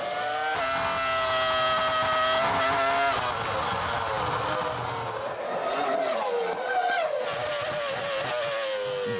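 Formula 1 cars, a Ferrari among them, roar past in a 2004 season race, a loud sustained high-pitched engine whine with shifting tones as the cars pass.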